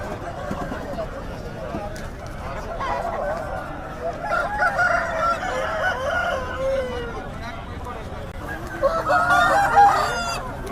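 Roosters and country chickens at the Nallapadu Friday poultry market cluck and crow continuously, with busy crowd chatter and people talking over the birds throughout.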